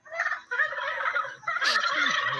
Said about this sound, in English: the turkey does have a reply